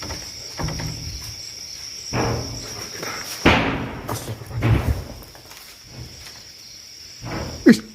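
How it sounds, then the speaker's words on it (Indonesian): Several hard thuds and knocks inside a large dark building explored at night, sounding like knocking on a door or wall, spaced irregularly amid a quiet background with faint insect chirps and a sharp louder knock near the end. "Suara ketok ya."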